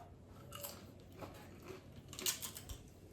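Someone bites and chews crunchy food close by: a series of faint, uneven crackling crunches over a low, quiet background, with no talking.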